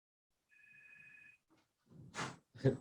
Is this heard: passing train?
no